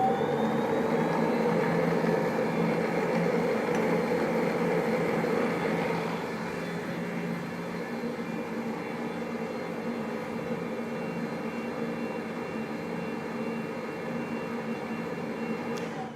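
Thermocook Pro M 3.0 kitchen machine blending gluten-free flour at speed 8 with the lid cap closed, a steady whirring motor drone that eases slightly in pitch partway and holds to the end, no voices.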